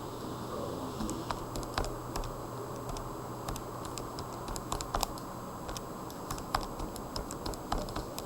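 Keys pressed on a graphing calculator as a function is entered, giving a steady run of short, crisp clicks at an uneven typing rhythm over faint room hiss, with no talking.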